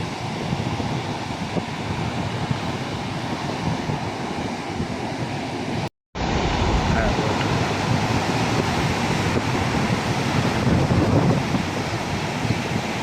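Sea waves washing onto the shore near Koneswaram temple at Trincomalee, a constant loud roar of surf mixed with heavy wind buffeting the microphone, broken by a brief dropout midway.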